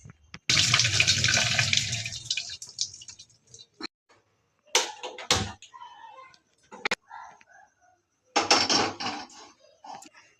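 Boiled soya chunks (meal maker) are drained through a kitchen strainer: a loud rush of pouring water for several seconds, then shorter splashes and drips with pauses between them, and a final burst of water near the end.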